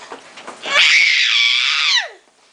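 A child screams loudly and shrilly for about a second and a half, rising sharply and trailing off into a falling wail, preceded by faint background noise.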